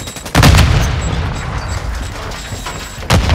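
A Semtex grenade in Call of Duty: Modern Warfare 2 goes off in a deep, loud boom at the start, its rumble fading slowly, and a second sharp blast lands near the end amid steady battle noise.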